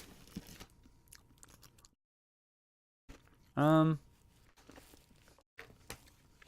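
Someone crunches and chews a snack close to the mic in scattered bites with short pauses, and a brief tonal vocal sound cuts in midway.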